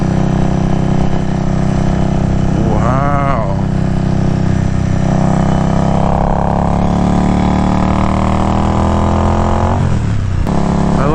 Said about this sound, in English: those pipes sound fantastic. It's got like a little Jetsons noise